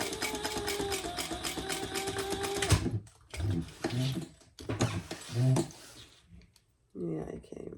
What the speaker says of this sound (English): Back stitch and finish it up.